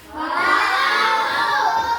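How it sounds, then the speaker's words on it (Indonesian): A group of children cheers and shouts together in one loud, sustained burst, a bright, dense crowd roar that swells briefly and holds steady. "Sekarang kasih tepuk tangan dulu untuk semuanya."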